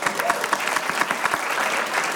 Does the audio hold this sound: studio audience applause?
yes